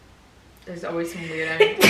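A single quick sneeze bursts out at the end, right after a voice speaks.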